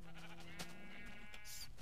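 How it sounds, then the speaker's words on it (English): A sheep in a video game gives a short, nasal bleat with a few softer bleats around it, heard fairly close against quiet background ambience. "Oh my god, there's a lot of sheep here."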